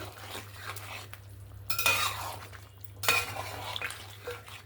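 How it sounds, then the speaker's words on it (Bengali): Desi chicken curry stirred in a pot, with a few scraping, clinking strokes of a spoon against the metal over a faint sizzle and a low steady hum. "আবারও নাড়াচাড়া করে নিলাম"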